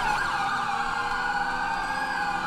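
Wailing police sirens from many patrol cars in GTA5, chasing through the streets of Los Santos, hold a loud, continuous warbling tone without pause.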